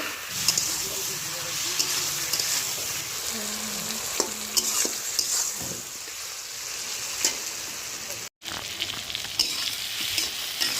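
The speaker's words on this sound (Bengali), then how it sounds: "নেড়ে চেড়ে আরও দুই থেকে তিন মিনিট কষিয়ে নেব" Vegetables sautéing with turmeric, chili and spice mix for a vegetarian curry, a steady sizzle with repeated spoon scrapes and stirs in the pan, close and continuous, with a brief pause near the end.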